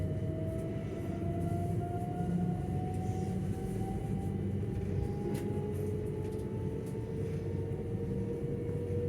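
Southern Class 377 style electric train running from Caterham to London Bridge, heard from inside as a steady, loud low rumble of wheels and motors throughout, with a rising motor whine sweeping slowly upward.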